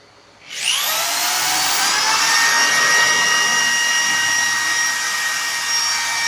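A power drill bores holes for drawer knobs with a shop-made jig. It starts abruptly and holds a loud, steady high whine for about six seconds.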